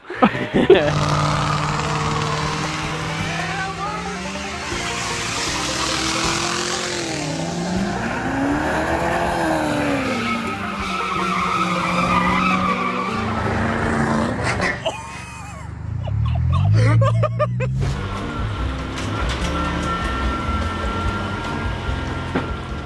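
A battered takeover car drifting with one-wheel peels, its engine roaring loud and close with tires squealing and skidding continuously, a brief dip midway before the revving surges again.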